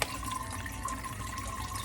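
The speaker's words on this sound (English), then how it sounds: "I'm just gonna add water" Water poured from a tap into a glass mason jar for sun-brewed tea, a steady continuous rush and trickle close by, running evenly throughout with no speech.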